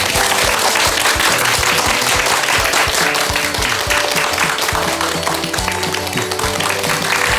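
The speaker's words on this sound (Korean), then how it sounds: "박수가 엄청 기네요." An audience applauds at length at a Buddhist monk's Dharma talk, thick sustained clapping that stays loud and even from start to finish.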